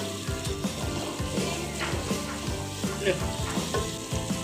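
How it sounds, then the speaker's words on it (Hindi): Yogurt sizzles and fries in a masala for hadi gudi ka salan, with a steady close frying hiss and rhythmic spoon scrapes against the pan, and no voices. "दही को भी मैं अच्छे से भून लूँगी मसाले में"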